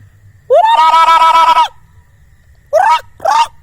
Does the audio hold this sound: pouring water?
no